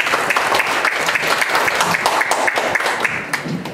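Continuous applause from a crowd at a Korean press conference for a WBA boxing world title match, steady dense clapping filling the room with no talk over it.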